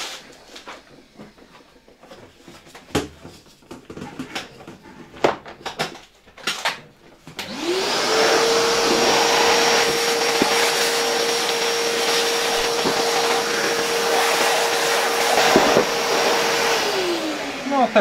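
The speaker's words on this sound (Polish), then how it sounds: "Przełączmy odkurzacz na dmuchawę." A vintage Electrolux 7 vacuum cleaner switched to blower mode starts up after some handling clatter, its motor whining up quickly to a loud steady airy roar that holds for about ten seconds before winding down.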